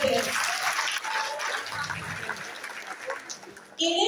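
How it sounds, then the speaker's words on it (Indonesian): Seminar audience applauding in a hall, a dense wash of clapping that fades slightly before a sudden louder burst near the end. "Luar biasa, tepuk tangan buat PT BEST."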